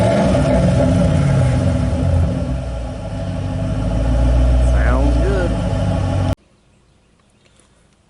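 A car with dual Flowmaster exhausts revs hard, the engine note swelling and falling across several seconds, with a voice speaking briefly over it before the sound cuts off abruptly.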